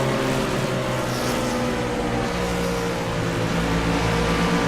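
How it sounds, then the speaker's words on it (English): The No. 46 race car at Charlotte accelerates hard out of a turn, engine roaring in a steady, dense drone that holds loud and unbroken throughout, no voices. "You hear the 46 pedal the gas as he comes off the turn."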